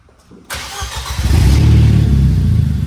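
A car engine with no exhaust fitted starts and revs up loud and raw, a harsh unmuffled roar that builds and holds close by, with no voices.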